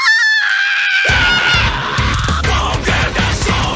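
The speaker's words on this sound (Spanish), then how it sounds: "Este es desquiciante ese grito, por Dios santo." A harsh, sustained scream in an anime opening song, bursting straight into loud distorted music with pounding drums, all played at full volume.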